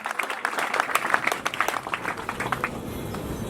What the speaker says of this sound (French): je vous prie d'applaudir très fort